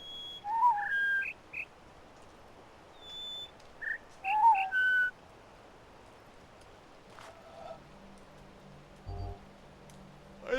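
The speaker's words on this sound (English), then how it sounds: "I think it's back to the original bird." Whistled bird calls from a sound puzzle in the video game The Witness, a few short chirping notes in two bursts followed by quieter tones and a low hum over faint ambient noise.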